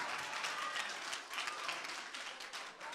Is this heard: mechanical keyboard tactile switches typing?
no